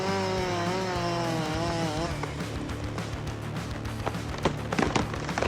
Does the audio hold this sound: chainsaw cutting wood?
yes